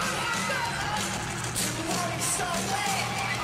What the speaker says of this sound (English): The crowd is totally insane.